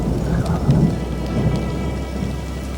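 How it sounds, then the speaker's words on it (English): A thunderstorm cell passing over a mountain campsite brings heavy rain, a steady dense hiss with low rumbling thunder rolling beneath it, loud and continuous throughout, with no voices. "another cell rolled by and started dumping rain on us again"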